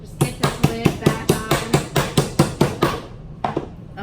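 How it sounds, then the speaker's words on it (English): A hammer taps a paint can lid back onto an oil undercoat primer can, about a dozen sharp, evenly spaced knocks close by, then a brief pause and a couple more taps. "Let me get my trusty hammer."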